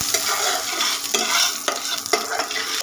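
Nigella seeds and asafoetida sizzle and crackle in hot oil while being stirred in a pan, a steady close frying hiss broken by several scraping stirs, with no talking.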